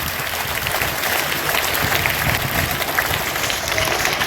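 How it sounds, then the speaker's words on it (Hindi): A school crowd gives loud, dense applause for a girl who won a state-level naat recitation competition, a continuous roar of clapping that stays steady and strong throughout. "जोरदार तालियां।"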